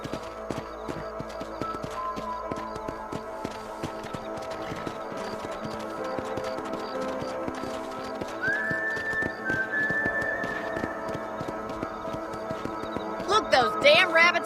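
A horse in the Red Dead Redemption video game clip-clops steadily at close range, then gives a loud whinny near the end.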